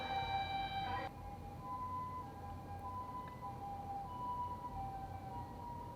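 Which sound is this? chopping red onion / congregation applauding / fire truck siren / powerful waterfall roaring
fire truck siren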